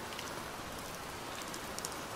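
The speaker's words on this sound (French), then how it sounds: "Je peux baisser le son de la pluie" Steady rain from the FlowScape 3D landscape software's weather effect, a dense even hiss of drops falling on surfaces, continuous and unchanging throughout with no voices.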